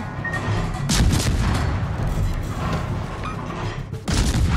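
Naval gunfire and explosions in a warship video game, heavy booming blasts and sustained rumbling barrage with sharp impacts near the start and end, loud and close.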